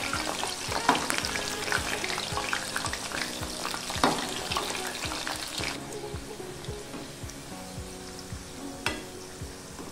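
Cashew-studded chicken pakoda frying in hot oil, a steady dense sizzle throughout with occasional sharp crackles and light clinks, fairly close and continuous with no talking.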